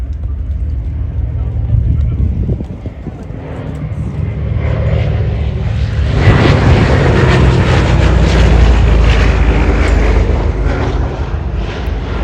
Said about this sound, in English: From the right, the C-47.